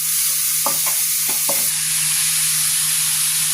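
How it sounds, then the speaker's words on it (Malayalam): Carrot and beetroot sautéing in a pan for veg cutlet: a steady sizzle throughout, with a few quick spoon scrapes and clicks early on, close and fairly loud, no talking. "ഇനി നമുക്കിതിൽ ക്യാരറ്റും ബീറ്റ്റൂട്ടും ഇടാം. അതൊന്ന് വഴറ്റണം."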